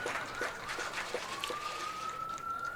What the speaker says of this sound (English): we can hear the ambulances in the background getting the sirens